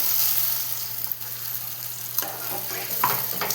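Mustard and poppy seed spice paste sizzling and frying in a pan for a pabda fish curry, a steady close hiss with occasional stirring scrapes and clicks, no talking.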